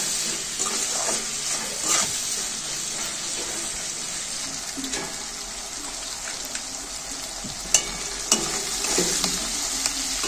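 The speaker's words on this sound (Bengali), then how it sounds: "নেড়ে ছেড়ে মিলিয়ে নিয়ে একটুখানি ভেজে নেবো আবার হালকা করে।" Chilli fish stir-frying with black pepper in a pan, a steady close sizzle with occasional scraping stir clicks throughout, no talking.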